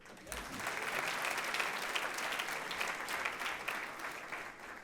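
Audience applause at a church talk, a dense, steady wash of many hands clapping that swells in quickly and holds at full strength for several seconds without talk.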